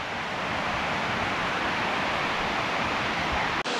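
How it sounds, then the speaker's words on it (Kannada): Hidlumane Falls on the Kodachadri trek gives a steady, full broadband rush of falling water, loud and unbroken throughout, with a brief dropout just before the end and no voices. "ಮೇಲಿಂದ ನೀರು ಬೀಳ್ತಾ ಇದೆ"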